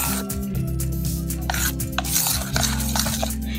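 Biscuit cake batter stirred by hand in a bowl, a close, continuous scraping and rubbing with a few sharper clicks, fairly loud over a steady low hum.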